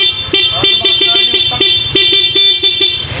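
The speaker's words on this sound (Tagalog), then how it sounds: "Tapos ito yung stock horn." Stock horn of a Yamaha Aerox V1 scooter, sounded in a quick series of short beeps close to the microphone with brief gaps between them and no talk.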